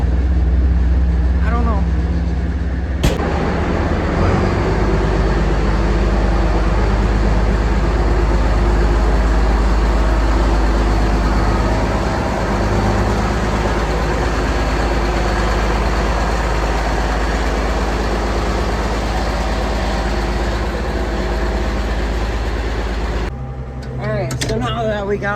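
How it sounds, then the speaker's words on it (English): A skid loader's engine runs at a steady, loud, low idle for the whole stretch, a constant rumble with voices talking over it now and then. "we're gonna start this skid loader up"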